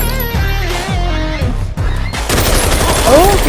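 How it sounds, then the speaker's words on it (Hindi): Rapid bursts of gunfire rattle loudly over a dense, noisy mix with a tonal voice-like element, close and continuous. "इतनी सारी गोलियां।"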